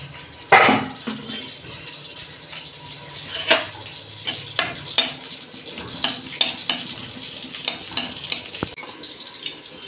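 Dry red chillies fry in hot oil in a wok, a steady close sizzle broken by repeated sharp clinks and scrapes of a utensil against the pan, with no one talking.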